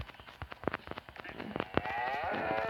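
Cattle on a farm moo loudly and close by, several harmonic calls overlapping in quick succession, with a longer drawn-out moo building near the end.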